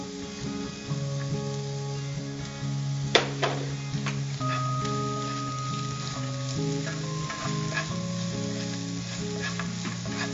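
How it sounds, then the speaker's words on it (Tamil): Beans and carrots stir-fry in a pan, giving a steady sizzle with scraping stirs and a few sharp clinks of the utensil, alone with no voices. "பீன்ஸ் வதங்கின அப்புறமா நெக்ஸ்ட் நான் கேரட் ஆட் பண்றேன்."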